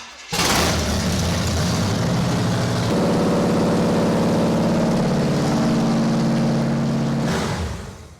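1981 Cadillac engine after a fuel system overhaul, starting and running at a steady loud idle close by, with the pitch stepping up briefly mid-run before it shuts off.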